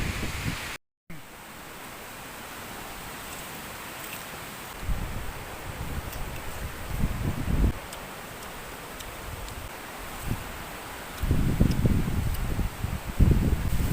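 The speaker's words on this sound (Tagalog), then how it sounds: "ang sarap ng hangin" Strong habagat monsoon wind rushes steadily through leaves, a broad airy roar that swells into louder gusts near the end, with no voices.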